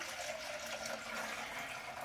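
Fresh coconut water is poured from freshly cracked coconuts into a container, a steady, soft liquid trickle and splash with no talking.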